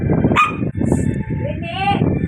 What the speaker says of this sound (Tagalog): Ayan, chihuahua.